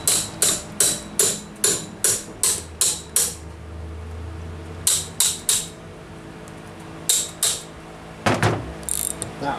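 Flywheel removal on a 1923 Briggs & Stratton Model P engine brings rapid, close ratcheting clicks in quick bursts, followed by metallic knocks and a clatter, with no talking.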